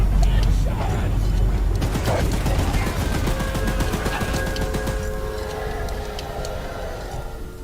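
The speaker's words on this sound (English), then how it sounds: "Careful! Don't let the gun overheat!" Rapid automatic gunfire from a mounted gun in the video game Choo Choo Charles, a dense sustained burst of shots close up with mechanical rumble underneath.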